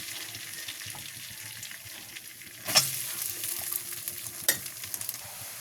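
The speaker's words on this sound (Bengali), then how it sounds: "এবার কিন্তু আমি এতে ভাত দিয়ে দেবো।" Rice frying in butter with cinnamon and cloves, a soft steady sizzle under scattered scraping stirs, with two louder clattering strokes of the spoon against the pan.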